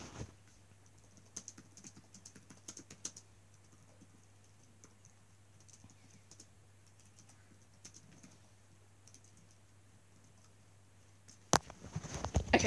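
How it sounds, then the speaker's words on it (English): Quick, light clicks of typing on a computer keyboard during a game stream, faint and irregular, with a brief louder burst of keystrokes at the end. "sorry if I was typing so slow"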